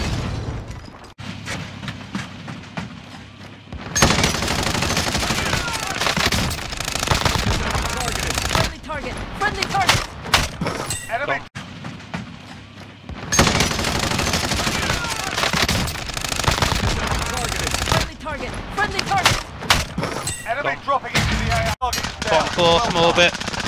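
Dense gunfire in Call of Duty Warzone on the Verdansk map: sustained automatic bursts and scattered shots, loud and continuous for most of the stretch, with brief lulls and players talking over it.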